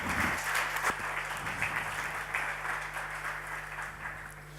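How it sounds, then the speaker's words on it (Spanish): An audience at an innovation event on corporates and startups applauds, with steady, fairly faint clapping that carries on for several seconds and slowly thins out, and no speech over it. "Un aplauso para ellos."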